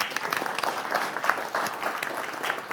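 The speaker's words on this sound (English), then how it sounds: "Give her a round of applause." A live studio audience gives a fairly faint round of applause, a steady patter of many hands that lasts a few seconds.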